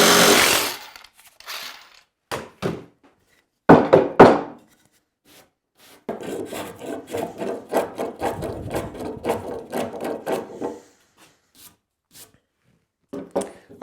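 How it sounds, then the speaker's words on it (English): A jigsaw cuts a wooden board for a bathroom vanity in short loud bursts of buzzing reciprocating blade, then a longer steady cut, with quiet pauses in between and no talk. "I just do it with the jigsaw."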